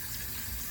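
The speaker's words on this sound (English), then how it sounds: "So I'm gonna just get it washed, clean up a little bit, and just wash it with some vinegar." Running water splashes steadily over raw chicken backs being washed with vinegar, a short continuous gush like a tap filling a bowl, close and without talk.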